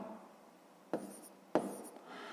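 A pen writes numbers by hand on paper during long division, faint scratching with two sharper strokes, close and quiet.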